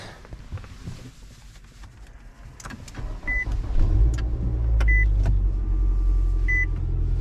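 Car being driven away after snow has been cleared, a low engine rumble building as it pulls off, with several short electronic warning beeps repeating from inside the cabin.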